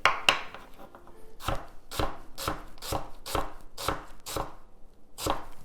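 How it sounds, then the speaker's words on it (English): A knife chops garlic and onion into thin slices on a cutting board, about eight crisp, evenly spaced thuds close up with quiet pauses between them. "Garlic, if we can just slice them up as thinly as possible."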